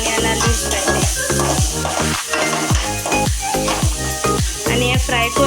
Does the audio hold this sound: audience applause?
no